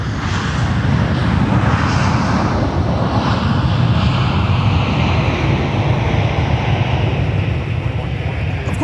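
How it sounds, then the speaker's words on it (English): Delta Airbus A321 airliner heard at Minneapolis–St. Paul airport: a steady, loud broadband jet engine roar with wind rumble, sustained without pause and no talking. "especially this A321 for Delta"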